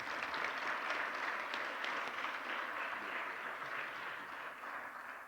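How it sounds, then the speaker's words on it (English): Sustained audience applause fills a session at a professions summit in an office venue, a dense, steady wash of many hands clapping that holds at even loudness before tapering slightly at the end. "Let's give one more round of applause"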